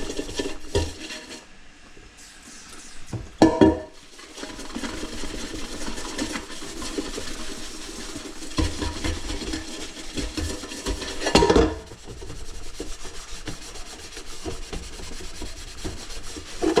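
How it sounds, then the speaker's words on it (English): A stainless steel pan is scrubbed with Bar Keepers Friend, giving steady close rubbing and scouring strokes with a couple of louder metallic scrapes and clanks of the pan, and no talking. "how I get my steel pans clean"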